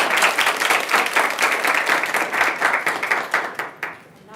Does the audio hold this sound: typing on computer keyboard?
no